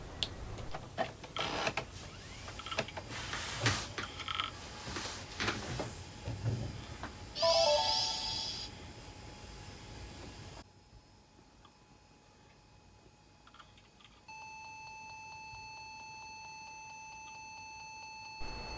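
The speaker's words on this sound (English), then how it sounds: "we get this repeated beeping on startup" A 1994 486SX laptop powering up: mechanical clicks and knocks at first, a brief electronic beep, then a steady, thin, high electronic tone that holds to the end in a quiet room.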